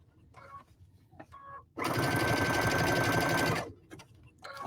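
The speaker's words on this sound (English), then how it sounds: "You can make this zigzag stitch a little bit smaller if you wanted to." A sewing machine stitches a zigzag seam on felt, running steadily and loudly for about two seconds with a fast, even mechanical chatter, framed by quieter handling sounds before and after.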